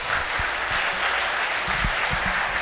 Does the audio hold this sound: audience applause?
yes